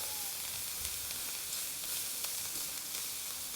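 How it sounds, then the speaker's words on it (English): Masala paste cooked with onion in a pan sizzles with a steady, even hiss, close and continuous, with faint scrapes of stirring and no voices. "there's your masala paste, all cooked out in the onion."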